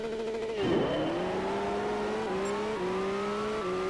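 A Nissan Skyline R34 V Spec II Nur engine in Gran Turismo 5 on a drag run, revving hard through several manual upshifts, its pitch climbing, dipping at each shift, then climbing again, loud and close with no talk.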